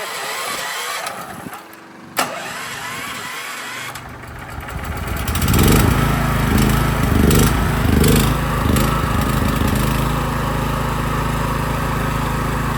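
A LUOTIAN 6.5 kW single-phase petrol generator starts and settles into a loud, steady engine drone with a buzzy, rhythmic chug, heard close up and alone after a few seconds of quieter handling noise.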